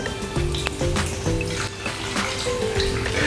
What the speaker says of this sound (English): I am pouring the stock here.